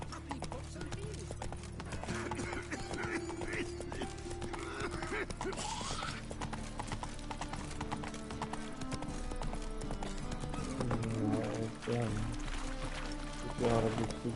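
Horse hooves clip-clop at a steady walking pace through most of the scene, moderately close. Music and voices sit underneath, and a short liquid pouring sound comes through.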